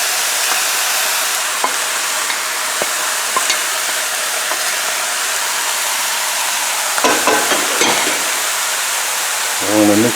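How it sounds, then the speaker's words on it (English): Rice tossed into a pan of stir-fried broccoli and zucchini over a lowered flame, a loud continuous sizzle with a few scraping stirs and clatters toward the end. "I'm going to toss the rice into this."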